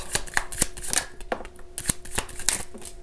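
Tarot cards are shuffled and drawn from a deck, a quick close series of crisp papery flicks and slaps in an uneven rhythm; no talking.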